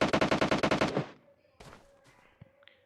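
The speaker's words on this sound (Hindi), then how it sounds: "मुझे यहाँ से गन शॉट्स की आवाज़ आती है" Video game gunfire: a rapid burst of about a dozen gunshots fires in quick succession, then fades into quieter scattered clicks and a faint tone.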